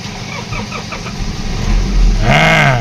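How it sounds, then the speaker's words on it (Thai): A 2006 Nissan Frontier King Cab pickup engine cranks and catches near the end, rising into a steady rumble after a stretch of low background noise. "เอาฟังเสียงเครื่องยนต์กันหน่อยนะครับว่าเป็นยังไง จะสตาร์ทติดง่ายไหมนะครับ"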